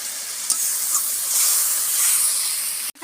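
A little water added to a hot pan of egg and pointed gourd curry cooked with yogurt hisses and sizzles steadily up close, briefly cutting off near the end.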